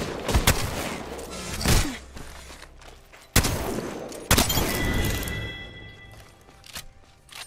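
Gunfire in Apex Legends comes as sharp close shots and bursts with heavy booming impacts, some spaced apart and others in quick volleys, over rumbling game ambience.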